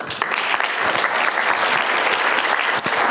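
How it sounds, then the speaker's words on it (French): Audience at an evening conference at ENSA, the national ski and mountaineering school, breaks into steady, dense applause that fills the room at close range for a few seconds, with no voices over it. "On peut les applaudir."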